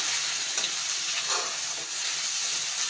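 Tinda (apple gourd) with tomatoes sizzles in a pan while being stirred, a steady loud hiss of frying with soft scraping strokes, close up and without talk.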